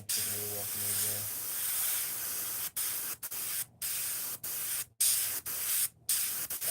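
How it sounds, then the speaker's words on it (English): An airbrush sprays paint in a steady hiss broken by several short pauses where the trigger is released, close and fairly quiet with a faint low hum early on. "My airbrush is really behaving today too. Really shooting really well"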